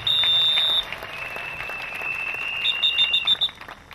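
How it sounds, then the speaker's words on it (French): A crowd at an outdoor Christian crusade in Dschang claps steadily, while shrill sustained tones and short high-pitched bursts, like whistles or ululation, ring out over the applause. "Applaudissez pour le Seigneur Jésus-Christ."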